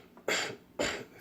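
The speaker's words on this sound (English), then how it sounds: "3 gentle coughs." Two soft, breathy coughs as part of a vocal warm-up, close by and evenly spaced, with quiet pauses around them.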